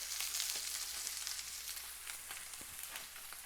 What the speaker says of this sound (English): So we're going to start by searing it up a little bit.